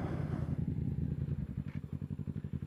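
A Yamaha MT-07 motorcycle idles and rolls to a stop nearby, its low engine thumping in a steady pulsing rhythm that grows slightly choppier as it settles.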